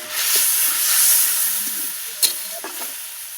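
Spice masala sizzles in a pan just after tomato paste is stirred in, a steady close hiss of frying with soft scraping stir sounds and a brief sharp clink partway through.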